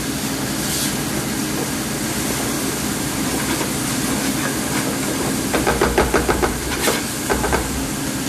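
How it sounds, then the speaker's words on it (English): Chicken fried rice being stir-fried in a hot oiled pan at medium-high heat, a steady loud hiss of sizzling with a burst of rapid scraping and tossing strokes toward the end. "I want to stir fry that up pretty well."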